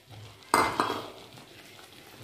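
A spoon scrapes through a pan as grated fresh coconut is stirred into a sweet sugar syrup for coconut and khoa barfi: a sharp clatter of metal on metal, then softer scraping and a low, steady sizzle.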